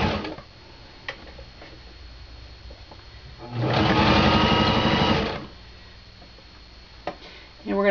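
A sewing machine zigzag-stitching a Christmas stocking seam gives a single buzzing run of about two seconds, close and loud, set between quieter stretches with occasional ticks and handling clicks.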